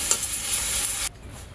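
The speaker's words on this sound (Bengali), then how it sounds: "তো সেই ক্ষেত্রে কিন্তু এভাবে নেড়ে চেড়ে উঠিয়ে ফেলতে হবে।" Dhenki shak greens sizzling and being stirred in a hot pan, a steady bright frying hiss that cuts off abruptly partway through, with no talk.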